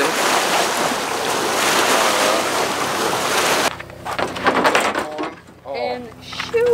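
A Coleman camp stove burning at full flame outdoors with a loud, steady close-up hissing roar for a few seconds before it drops away and people start talking.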